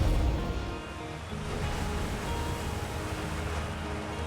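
A steady, broad rushing roar of a waterfall in the space exploration game Outer Wilds fills the scene, continuous and fairly loud with no voices.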